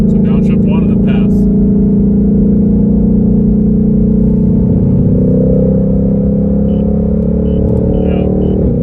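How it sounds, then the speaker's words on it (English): A 2020 Ford Mustang GT500 with a dual-clutch transmission drones loudly and steadily at close range, its engine note shifting as it downshifts, with a brief rise in revs and continuous road rumble throughout. "Now this is the downshift."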